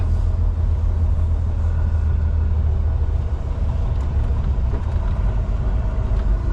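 A constant, loud low rumble of idling truck engines fills a crowded trucking yard, heard steadily from close by inside a cab, with no talking.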